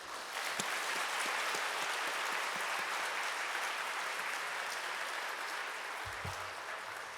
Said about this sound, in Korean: 우리 서 목사님 나오실 때 여러분 큰 박수로 환영하시기 바랍니다